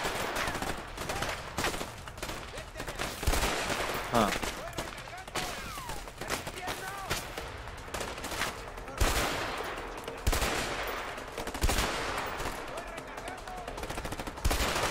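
Video game gunfire in A Way Out: dense, repeated shots and bursts crackle throughout, close and loud, under excited talk and game sound.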